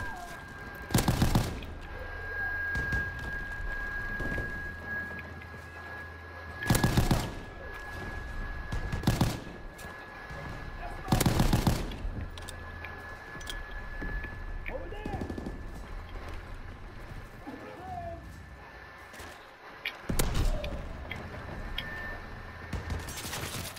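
An AVS-36 rifle in Call of Duty WWII fires in several loud, sharp bursts spaced across the scene, separated by quieter stretches of game ambience with a steady tone, while a player talks between the shots.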